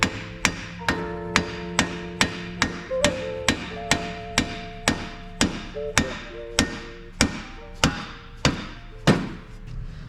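Loud, evenly spaced hammer blows on metal parts for Honda EF Civic steering knuckles in a garage, about twenty ringing strikes in a steady rhythm, each with a bright metallic ring that decays between hits.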